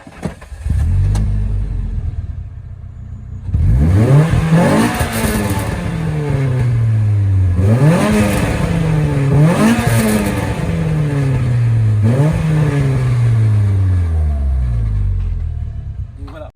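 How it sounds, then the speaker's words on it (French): A Renault Clio 3 RS engine revs hard through repeated rising and falling sweeps as it accelerates and shifts gears on a road test, loud and close, with a steady rumble underneath. "Un essai routier de la voiture, vous allez voir que ça gueule beaucoup."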